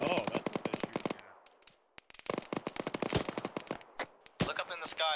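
Rapid gunfire rattles in bursts during a video game as paratroopers drop from the sky, a string of sharp shots broken by short gaps and a few louder single cracks.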